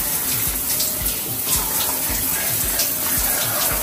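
Water runs steadily and loudly as someone wets their skin in the bath, a dense continuous splashing flow with faint thumps underneath. The sound lasts the whole moment, with no voices.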